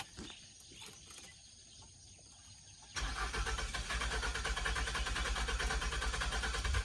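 A faulty Clifford car engine cranks on its starter after a quieter stretch of outdoor background noise, the starter's steady, loud churning running continuously to the end without catching.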